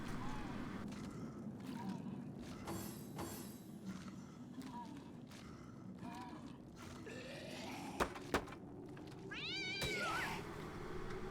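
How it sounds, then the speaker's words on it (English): A cat in the video game Divinity Original Sin lets out several agitated meows and yowls over a low game ambience, with other game sounds mixed in. "Ah, the cat is going nuts."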